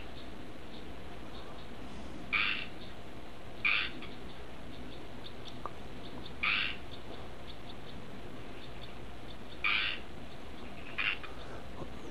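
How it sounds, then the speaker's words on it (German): Five short frog calls sound at spaced, uneven intervals over a steady background hiss, moderately loud against the hush. "Wieder rufen vorerst mal andere Frösche im Hintergrund."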